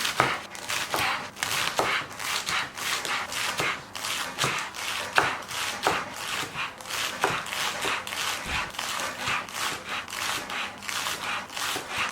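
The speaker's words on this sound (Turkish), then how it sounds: "Bunları da ince ince doğrayacağım." A knife taps rapidly and steadily against a cutting board, finely chopping green onion leaves in quick, even strokes with no talking.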